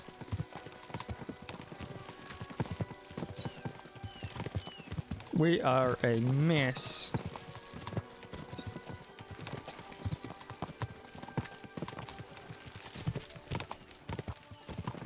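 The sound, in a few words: horses galloping in video game Kingdom Come Deliverance 2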